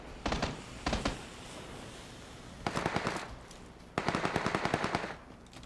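Bursts of automatic gunfire crack through a PUBG match: two short volleys early on, then two longer rapid strings of shots, sharp and fairly close over quiet background noise.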